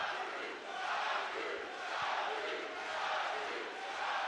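A crowd at a Samourai MMA 14 fight roars and cheers in steady swelling waves, dense and loud throughout with no break.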